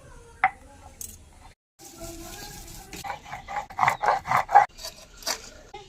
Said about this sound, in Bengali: আদা রসুন থেতো করে নেব